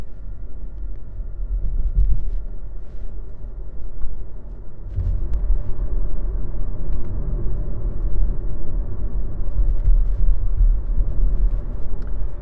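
A VW e-Golf electric car drives along a countryside road by a dike near the Elbe, giving only a steady, low interior rumble of road and tyre noise with no voices.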